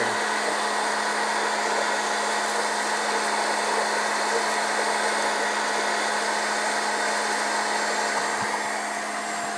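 A popcorn popper roasting coffee beans roars with a loud, steady hot-air blower whoosh, constant and close throughout, with no voices.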